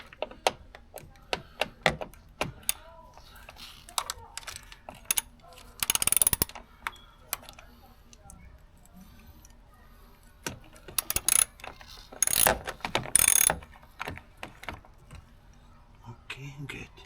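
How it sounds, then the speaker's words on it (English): A 10 mm ratchet wrench works on a RAM 1500 truck battery, giving scattered metallic clicks and clanks with louder ratcheting bursts near the middle and later, plus faint background talk. "the wrench to remove this battery is a size 10 millimeters"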